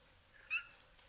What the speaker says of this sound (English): She squeaks like she's in pain